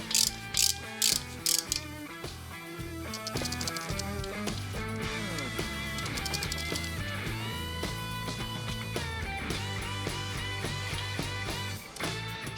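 A hand ratchet clicks rapidly in short bursts as lifter blocks come off an engine during an S&S 510C kit install, with metallic ratcheting and clanks running continuously and close up, and nobody talking.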